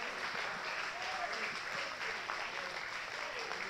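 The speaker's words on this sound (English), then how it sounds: "This is why we clap." Clapping from a church congregation during a praise service, a faint, dense patter that runs on steadily, with voices audible in the background.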